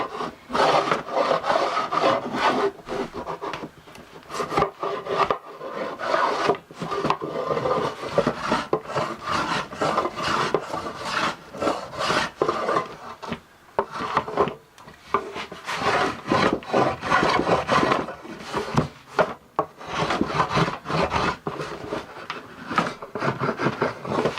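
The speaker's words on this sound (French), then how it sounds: "On se retrouve tout de suite du coup pour le ponçage." Sanding the underside of a homemade wooden tray, a continuous rasping scrub of abrasive on wood in uneven strokes that keeps going steadily up close with brief pauses.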